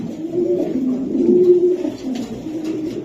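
Giribaz pigeons cooing nearby, a continuous low, throaty burbling coo that swells and fades over a few seconds, fairly loud, with no talking.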